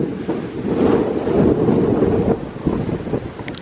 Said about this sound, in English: I do apologise about the wind